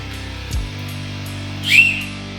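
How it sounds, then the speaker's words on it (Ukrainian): A single short, shrill whistle blast, a little over a quarter second, comes from the whistle built into a Smith & Wesson SW990TA knife sheath, heard near over a low steady hum. "ви можете скористуватися свистком, який є тут в ножнах"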